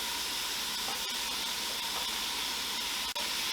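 Andouille sausage and softened vegetables sauté in a hot pan for red beans and rice, giving a constant dense hiss up close with a couple of faint ticks from the pan.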